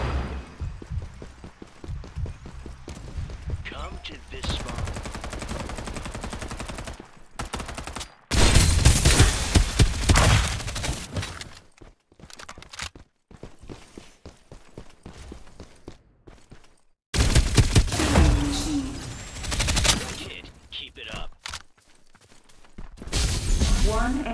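Bursts of gunfire in the battle-royale video game Farlight 84, with loud automatic volleys in several clusters separated by quieter stretches, mixed with game effects and voice callouts.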